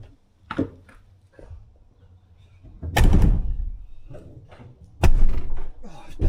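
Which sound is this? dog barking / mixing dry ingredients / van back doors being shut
van back doors being shut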